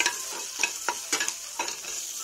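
Green chilli, ginger and garlic fry in a pan for a tomato-free fish curry, a steady hissing sizzle broken by several sharp scraping stirs of a spatula, close and fairly loud, with no voices.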